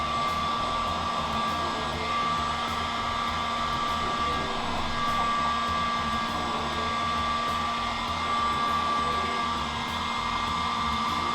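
Heat gun warming vinyl wrap on a VW Golf grille, a steady close blowing roar with a constant whine, unbroken and without talk throughout.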